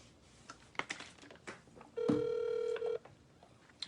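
A telephone call is placed: a few soft button taps, then a steady electronic tone rings out for about a second before cutting off, close and clear against a quiet room.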